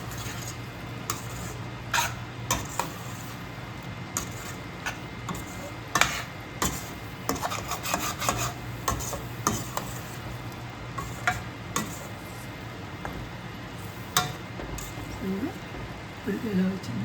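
Prawn masala curry sizzles softly in a pan while a utensil scrapes and taps against it in irregular strokes, with a voice talking over the frying throughout.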